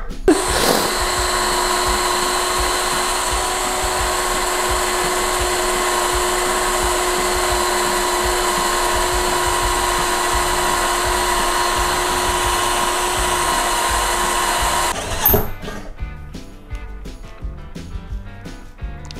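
A Metabo PowerMax 12V cordless drill runs at a loud, steady whine for about fifteen seconds, then cuts off, leaving scattered clicks and handling noises.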